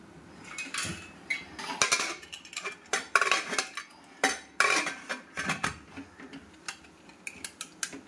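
A spoon stirs food in a metal pressure cooker pot, producing close, irregular clanks and scrapes in quick strokes with brief pauses between them.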